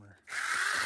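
Sainlogic battery-powered 6-inch mini chainsaw trimming small branches outdoors: after a brief quiet moment the motor kicks in with a loud, close, steady buzzing whine that holds to the end.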